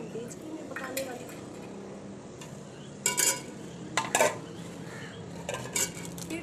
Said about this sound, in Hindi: सबसे पहले हम प्याज लेंगे, ये देख सकती हैं आप, ये डालेंगे हम डेचकी में पकाने वाली।